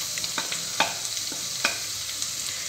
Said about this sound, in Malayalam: നമുക്ക് ഇതിനകത്തേക്ക് ആദ്യം 1/2 സ്പൂൺ മഞ്ഞൾപ്പൊടി ഇട്ട് കൊടുക്കാം